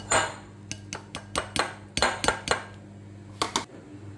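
Chopped ginger, green chillies and curry leaves tipped into a bowl, a series of close sharp clinks and taps of a utensil against the bowl, clustered in quick bursts with brief pauses between.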